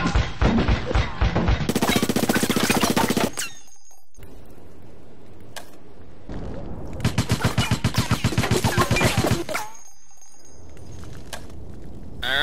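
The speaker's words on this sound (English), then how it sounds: "being a suppressed rifle, it is equipped with a silencer and is a lot less noisy than the previous three rifles" A suppressed, silenced rifle in Resident Evil: Operation Raccoon City fires long rapid automatic bursts of muffled, clipped shots, close and steady, with short pauses between strings and no talk.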